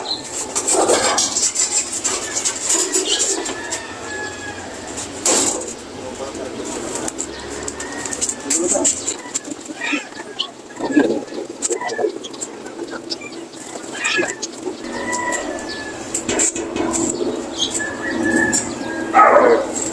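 Racing pigeons returning to the loft coo steadily and close by, with wing flutters and shuffling, while people talk nearby throughout.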